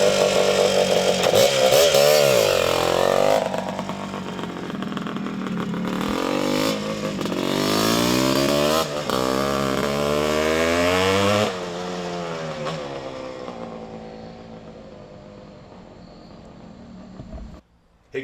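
A 1978 Honda CR250 Elsinore two-stroke motorcycle engine rasps loudly up close, revving up and down in rising and falling sweeps before dropping away and cutting off near the end.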